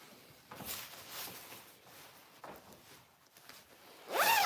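A clothing zipper is pulled up in a few quick rasping strokes, close and fairly quiet, with a brief louder rustle at the end.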